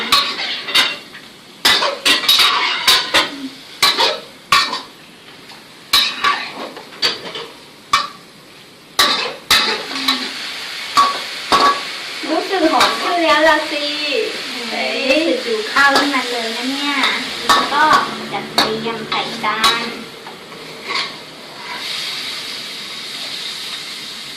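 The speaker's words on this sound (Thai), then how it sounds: "จากนั้น ก็ผัดให้มันเข้ากัน" Squid and holy basil stir-fried in a pan, with a steady sizzle under scattered sharp clatters of a utensil against the pan, near and fairly loud, while a voice talks over the middle stretch.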